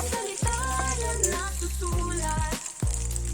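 Food sizzles steadily in an oiled pan while a banana blossom dish is cooked, a continuous close frying hiss layered with low humming tones and a few sharp clinks, with no talking.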